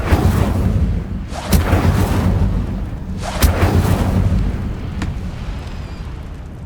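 The Incendio fire spell is cast in Hogwarts Legacy, producing loud, whooshing fiery blasts in two main bursts over a continuous roaring rumble, with a smaller crack near the end.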